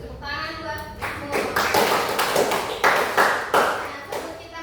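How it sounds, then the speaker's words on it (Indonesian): Students in an Indonesian school classroom applaud together, producing several seconds of lively, close clapping in uneven waves, with voices mixed in. "Tepuk tangan buat Mahmud."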